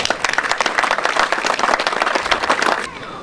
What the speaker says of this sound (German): Und dafür möchte ich einmal wirklich um einen Applaus bitten,